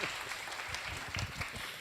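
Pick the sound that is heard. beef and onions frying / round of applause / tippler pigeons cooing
round of applause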